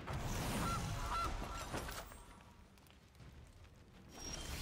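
A goose honks twice from a card-game interface, the calls bright and brief over a cluttered, noisy background of game effects that fade out before a later swell.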